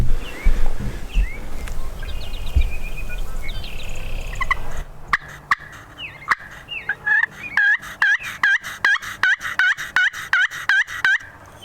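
Wild turkeys at a Nebraska public land roost gobble in a rapid series of loud, close, rhythmic bursts in the second half, following a stretch of softer distant birdsong and low outdoor rumble.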